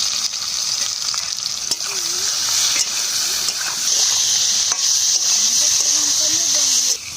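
Turnip and taro sauté in hot spiced oil with salt and turmeric, a loud continuous frying hiss with scraping stirs throughout, while a voice hums or murmurs faintly beneath.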